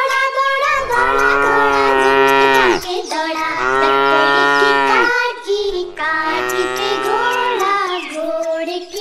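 A cow moos three times in a row, each call long, loud and close, with short breaks between the calls, heard alone over quiet backing in a children's rhyme.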